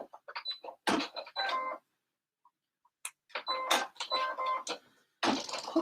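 Sewing machine running a satin stitch on fabric for lemon decor, in short bursts of rapid mechanical whirring separated by brief silent pauses, close and fairly quiet.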